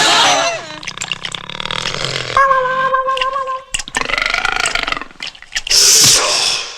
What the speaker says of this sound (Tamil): ஒரு சாவி சாப்பிட்டதுக்கு ஏப்பம் விடுது.